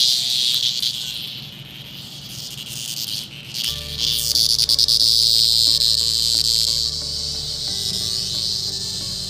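Loud, steady cicada buzz with a rasping high whine that pulses and swells, continuing throughout while a pet dog named Gracie eats one of the insects.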